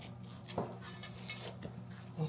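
Meatloaf going into a pan on a kitchen counter, with a few sharp clanks and knocks of the pan and utensils over a quiet, steady background.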